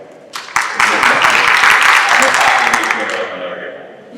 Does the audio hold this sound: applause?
yes